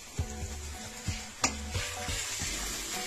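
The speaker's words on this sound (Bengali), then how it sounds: "মশলা ভালো করে ভেজে নিচ্ছি।" Ginger and garlic paste frying with onion in a pan, a steady sizzle punctuated by several clanking strokes of a spoon against the pan, close and moderately loud.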